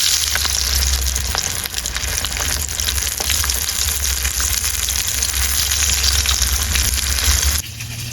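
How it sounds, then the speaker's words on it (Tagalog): Chicken pieces fry in hot oil, a loud, dense and continuous sizzle with no talk, easing slightly at the very end. "tapos mainit ang ating mantika. Diyan, lagyan natin yung ating chicken."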